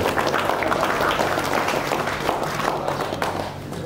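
Wedding guests in India clap to welcome the couple, a loud, dense burst of applause that holds steady and then eases slightly toward the end.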